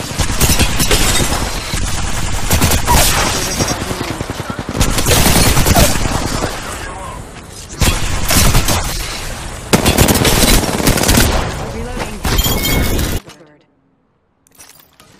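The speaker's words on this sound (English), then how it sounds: "Opening fire." Sustained bursts of automatic gunfire in the battle royale game Apex Legends, loud and dense with brief lulls, mixed with game voice lines and effects before cutting to near silence at the end.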